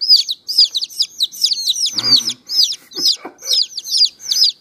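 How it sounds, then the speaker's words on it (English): Close, rapid high-pitched peeping of young chicks in a just-opened shipping box, repeated chirps overlapping continuously with faint rustling in the background. "Straight chirping."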